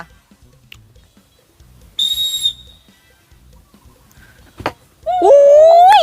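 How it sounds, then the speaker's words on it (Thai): A sharp whistle blast, then a short burst and a longer warbling whistle, with faint low voices murmuring in the background. "ฟังเสียงนกหวีดนะคะ"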